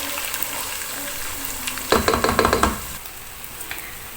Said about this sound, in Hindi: ये देखिए फ़िश जो है हमारी बहुत अच्छी सी फ्राई हो रही है।